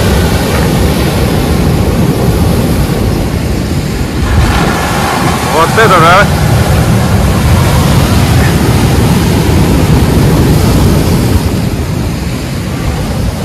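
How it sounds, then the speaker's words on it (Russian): Sea surf on the beach at the Rubi Platinum Spa Resort in Alanya: a constant loud wash of waves mixed with heavy wind buffeting, and a voice briefly exclaims over it. "Ну и море."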